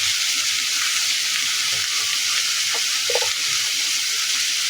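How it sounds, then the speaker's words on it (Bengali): Spice masala and onions fry in oil with a steady, close hiss of sizzling, broken by a few soft clinks and scrapes of a spoon in the pan. "এখন মশলাটা কষিয়ে নিব।"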